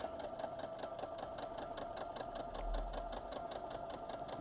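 A sewing machine stitches around the wattle of a fabric turkey centerpiece, its needle running in a fast, steady, even rhythm. The stitching is faint and close, with no voices.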